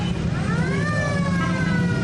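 Ambulance siren wailing through dense city traffic in Lahore, a rising and falling tone heard at moderate distance above a thick, steady roar of engines and street noise.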